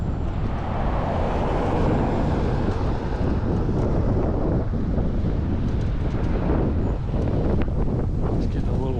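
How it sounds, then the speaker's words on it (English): Heavy wind buffets the microphone in a constant roaring rush while riding a Hiboy S2 Max electric scooter in Las Vegas, with low rumbling gusts throughout and no clear speech. "I'm on my slowest scooter and it's kind of windy"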